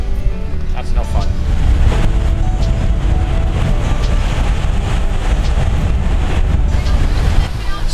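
A sailing yacht runs under sail among the Las Perlas islands of Panama, with steady wind rushing past and water washing along the hull, loud and continuous throughout.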